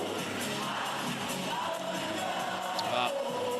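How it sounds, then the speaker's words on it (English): A basketball crowd in Dunedin cheers and yells in an indoor arena, a steady roar of voices with whoops rising near the end. "Crowd love it here in Dunedin"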